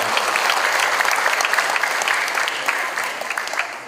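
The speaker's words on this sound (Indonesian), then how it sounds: "Beri tepuk tangan untuk beliau Pak Arif." Loud applause from a crowd at a reading-campaign book event at a Jakarta book market, a dense continuous clapping that stays strong and eases slightly toward the end.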